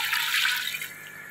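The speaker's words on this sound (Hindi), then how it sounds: "इसमें करीब करीब इतना पानी डालेंगे कि ये" Water is poured into a cooking pot holding goat head for a mutton curry, a short splashing gush that fades within about a second.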